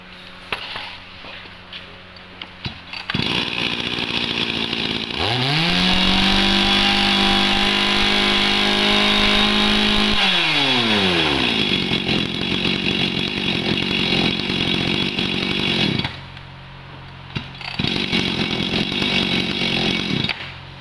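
Used Shingu E28 Japanese chainsaw with a worn chain, idling then revving up to a loud sustained high whine for several seconds before dropping back to idle and revving again, close and alone.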